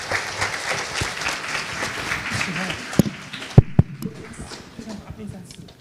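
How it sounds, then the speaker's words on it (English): Conference audience at a semiconductor supply chain summit clapping warmly for an incoming speaker, a steady patter that thins out near the end with a few louder knocks. "Let's give him a warm applause."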